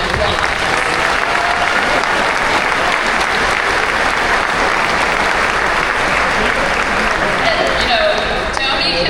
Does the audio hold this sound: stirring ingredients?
no